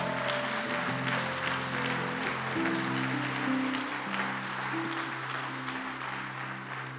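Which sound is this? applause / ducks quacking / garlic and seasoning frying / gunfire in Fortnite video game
applause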